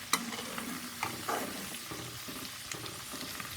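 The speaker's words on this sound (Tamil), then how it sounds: "நல்லா முறியுது கீரை. உங்களுக்கு சத்தம் கேட்கும்னு நினைக்கிறேன்." Moringa leaves crackle and sizzle in hot ghee, with a soft steady hiss, a few sharper pops, and light stirring, all fairly quiet and close.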